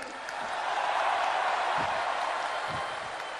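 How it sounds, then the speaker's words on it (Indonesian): A crowd at an Indonesian political rally claps and cheers in a steady, broad wash of noise, with a few heavier thumps breaking through the continuous roar. "Tepuk tangannya kurang semangat."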